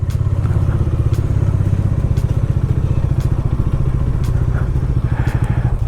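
A motorcycle rolls steadily along an icy mountain road with black ice near Sissu, its engine thrumming in a dense, even low pulse throughout, loud and close, with faint clicks and rattles over the top.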